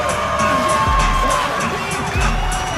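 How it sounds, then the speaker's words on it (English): Crowd at a bodybuilding classic physique finals cheers and whoops wildly, a dense sustained roar with scattered shouts and low thumps, loud and continuous. "You guys should hear the crowd in here. They're just going absolutely wild for these guys."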